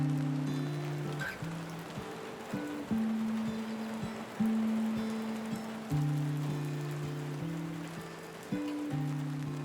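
Rain falling on a wet day in the Japanese countryside makes a steady, soft hiss throughout, with low, sustained humming tones layered on top.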